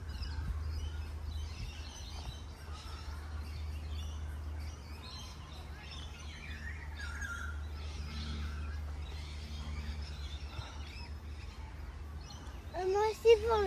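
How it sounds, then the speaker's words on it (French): Birds chirp and call outdoors among tall trees, scattered bright calls over a low steady hum, with a louder burst of song at the end and faint voices in the background. "mais les bruits des oiseaux"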